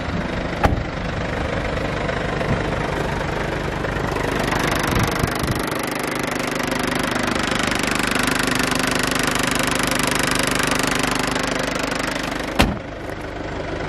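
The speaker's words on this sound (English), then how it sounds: "keep the engine running" An Infiniti Q50 engine idles with the bonnet open, a steady broadband mechanical hum and faint ticking heard up close, with a couple of sharp clicks and no talking.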